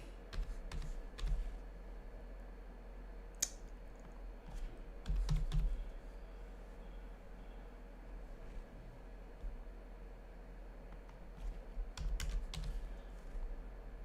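Someone types on a computer keyboard during live options trading, with scattered bursts of quick, light key clicks separated by pauses, fairly faint over a low, steady background hum.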